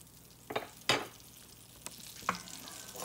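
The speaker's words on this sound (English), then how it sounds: "We're going to go ahead and add our 4 tablespoons of butter and let that start melting down." Four tablespoons of butter melt in a hot pan for pork fried rice, with a soft low sizzle broken by a few sharp clicks and scrapes of a utensil against the pan.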